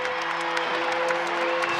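A basketball crowd in Diddle Arena at a Middle Tennessee at Western Kentucky game applauds and cheers after a corner three and foul, a dense sustained roar of clapping and voices.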